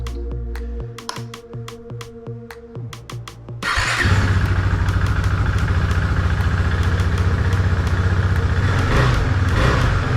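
A Husqvarna Svartpilen motorcycle starts up after a few sharp clicks, then its engine settles into a steady, loud idle with a low throbbing rumble, running close and continuous with no talk.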